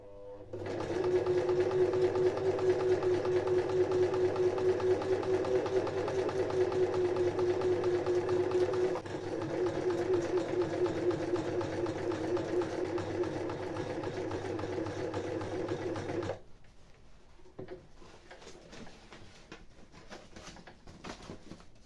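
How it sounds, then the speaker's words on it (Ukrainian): A sewing machine stitches the fabric cover for a heated e-bike battery, its motor running as a steady close whirring hum for about sixteen seconds before stopping, leaving faint room noise. "Пробуємо щось зшивати."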